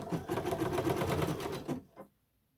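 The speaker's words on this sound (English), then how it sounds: "And now we can go and finish the sewing." A sewing machine stitches quilt appliqué in a steady, rapid, close mechanical whir that runs for under two seconds and then stops abruptly.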